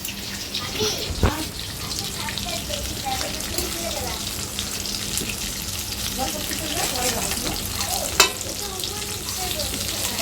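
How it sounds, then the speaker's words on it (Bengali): Fish frying in oil, a dense continuous sizzle and bubbling heard close, with a couple of brief utensil knocks. "আমি এখনটায় করছি মাছ ভাজা মাছের তেলের ভাজা"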